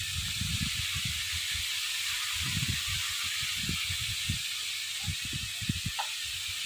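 Pangas fish frying in a pan in a Bengali village kitchen gives a steady, loud sizzling hiss throughout, with low thumps and clatter beneath it.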